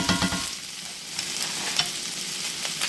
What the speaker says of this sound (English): I'm going to toss this a little bit so we can get that rice heated up